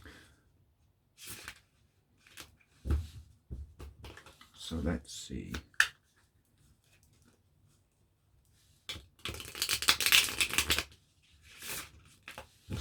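Tarot cards shuffled by hand in a few short rustling bursts, with the longest and loudest flurry near the end, between stretches of quiet and brief spoken remarks.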